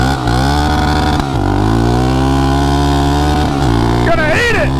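A liquid-cooled Suzuki ATV engine runs close by and loud, its revs swinging up and down in sharp throttle blips with a buzzy, layered tone, and a voice cuts in near the end.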